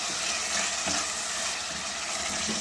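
Thick, steady sizzle of oil-fried masala in a pot for chana dal gosht, with yogurt being stirred in; dense crackling hiss runs throughout with a few soft stirring scrapes, close and continuous, no voices.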